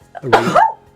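A single loud, close sneeze bursts out sharply, followed by a brief trailing voiced sound.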